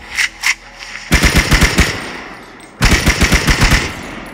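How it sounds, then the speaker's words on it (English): A regular AK rifle fires in a modded video game. Two single loud shots come first, then two rapid automatic bursts of about seven rounds each, close and punchy, separated by a brief pause. "This is the regular AK."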